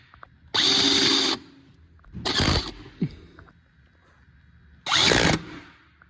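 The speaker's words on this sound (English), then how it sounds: "I got a drill with that attachment" Three loud bursts from a power drill fitted with a disc attachment, each spinning up for roughly half a second to a second with a high whine, separated by quieter gaps and small clicks, used on a 250cc Chinese quad.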